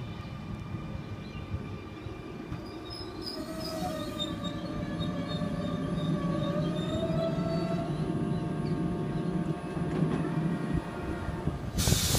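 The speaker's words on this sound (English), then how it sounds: "We've got an M set arriving under platform number 3." A Sydney Trains M set pulls into a platform at Glenfield station, a loud continuous rumble of wheels on rail with rising and falling squeals and hiss as it arrives.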